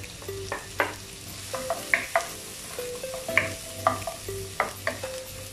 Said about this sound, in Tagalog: Drop natin bawang dyan.